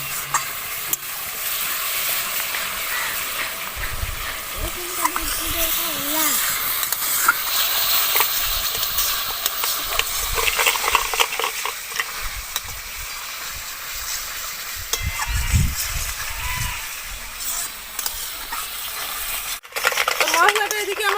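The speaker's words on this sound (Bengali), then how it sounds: "টমেটো বাটাটা দিয়ে আবারও আমি কিছুক্ষণ মশলাটা কষিয়ে নেব।" Masala with tomato paste being sautéed in a pan for a pumpkin fritter curry, with a steady broad sizzle and repeated scraping stir strokes throughout, fairly close and continuous.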